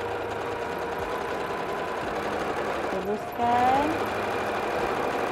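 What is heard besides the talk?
sewing machine back-tacking stitches on batik tote bag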